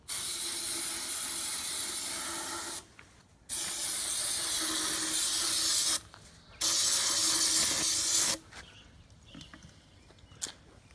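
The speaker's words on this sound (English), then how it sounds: "we don't have any brake clean, so we're gonna use this starting fluid" Starting fluid sprayed from an aerosol can onto the gears of an E36 differential, three long hissing bursts of a few seconds each, close and fairly loud, separated by short quiet pauses.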